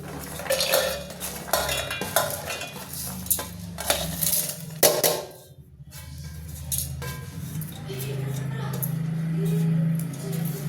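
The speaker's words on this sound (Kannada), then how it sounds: "ಎಲ್ಲವನ್ನು ನಾನು ಜಾರ್ ಇಟ್ಕೊಂಡಿದ್ದೀನಿ ಜಾರ್ಗೆ ಹಾಕ್ಕೊತಾ ಇದ್ದೀನಿ" Spices and lentils are tipped into a steel mixer jar in a home kitchen, making close clinks and clatters of metal and rattling grains, followed by a steady low hum, while someone talks throughout.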